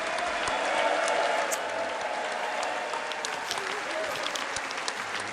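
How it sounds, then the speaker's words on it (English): A standing ovation in Congress, a large crowd clapping steadily and loudly, sustained without pause, with murmuring voices mixed in. "And the applauding doesn't end."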